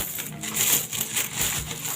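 A pile of loose coins, roughly two litres' worth, is poured and dropped, giving a continuous bright jingling and clinking that swells and eases in waves, close and loud with no talk.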